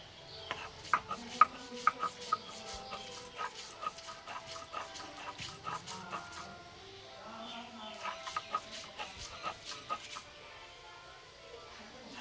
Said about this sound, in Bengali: দেখো ডালটাকে এইভাবে সুন্দর করে বেটে নেব